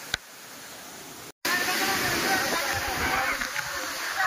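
A monsoon waterfall at Matheran roars as a steady, dense rush of falling water, close and loud, with one brief cut-out near the start.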